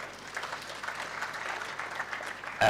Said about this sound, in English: So you can clap for those as well.